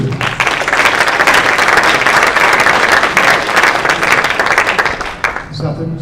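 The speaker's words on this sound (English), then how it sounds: "I'd like to get a round of applause for South Jersey Industries and Steve Clark" A business plan competition audience gives sponsors a round of applause, loud, dense and sustained for over five seconds, then drops off abruptly as a voice starts near the end.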